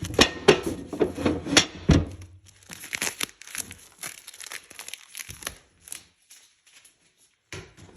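Paper towels crinkle and rustle in quick, close bursts during perfume-making prep for jasmine enfleurage, busy at first and then thinning into sparse, softer crackles with quiet gaps.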